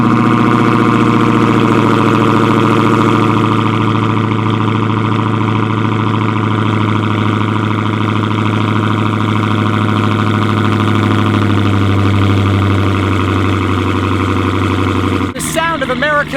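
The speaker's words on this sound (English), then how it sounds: "I am taking the Hellcat, so let's go ahead and do another badass cold start." A Dodge Hellcat V8 idles loud and steady after a cold start, a deep continuous rumble with layered harmonic drone that holds unbroken, cutting off abruptly near the end.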